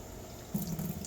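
Dirty water from a Fluval canister filter uncleaned for a year pours out in a brief, faint splash and trickle, starting midway and running under a second.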